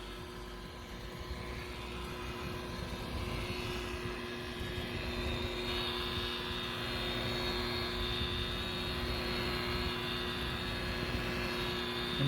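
A buffer polishes oxidized gelcoat on a Larson boat, giving a steady whirring drone with a constant motor hum and a slight rise in pitch partway through, close and continuous with no talk.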